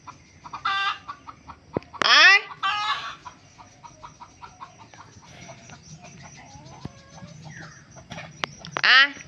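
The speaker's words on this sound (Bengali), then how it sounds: "এবারে দেখো এই যে মুরগিগুলো বেরিয়ে গেছে।" Free-ranging village chickens let out in the morning, giving several loud, sharp clucks and squawks in bursts with quieter scratching and clucking between them, close by.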